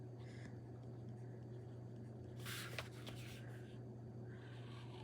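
Pilot broad-nib fountain pen with an 18 karat gold nib scratching across paper, a soft close scribbling of short strokes that grows busier midway, faint against a low room hum.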